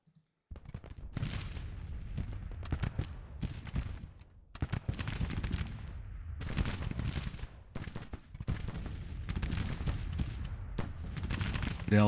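Battle din from a Civil War strategy game set at the Second Battle of Atlanta, with artillery firing canister into an infantry brigade: repeated loud booming blasts and crackling volleys in irregular bursts, separated by brief lulls.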